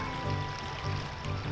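Waterfall at Zora's Domain in The Legend of Zelda: Ocarina of Time, a steady rushing wash of water that fills the short clip without pause.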